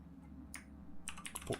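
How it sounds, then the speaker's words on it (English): A computer keyboard typed on in short bursts, crisp clustered key clicks close up over a low steady background hum. "so you can see it as I'm typing it"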